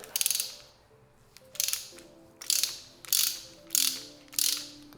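A ratchet works a pulley bolt on a Nissan RB26 engine in a Skyline R32 GT-R. Six short bursts of rapid clicking come at a steady rhythm, close and clear, with no talking.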